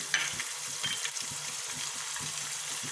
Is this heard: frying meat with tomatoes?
yes